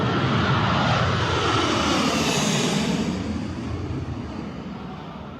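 An American airplane at Kabul airport roars loudly as it passes, a broad engine rush that gradually fades toward the end.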